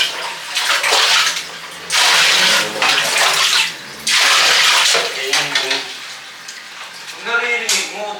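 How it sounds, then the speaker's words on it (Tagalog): Water poured in repeated gushes from a bucket, splashing loudly in bursts of about a second or two with short pauses between, faint voices in the background. "Ang naririnig ko nga talaga, yun nagbubuhos."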